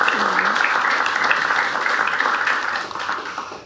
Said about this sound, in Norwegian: Nå kan dere klappe for alle sammen.